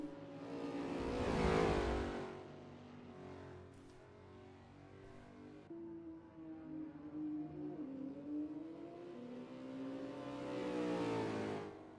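A GT4 race car lapping Sonoma in the Assetto Corsa sim, with its engine swelling as it passes close, fading, then revving back up through rising and falling gear pulls before another loud pass, with no voices.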